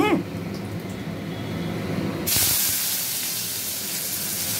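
Panch phoron spices hit hot oil and set off a bright, steady sizzle and hiss, with some faint kitchen clatter underneath before it.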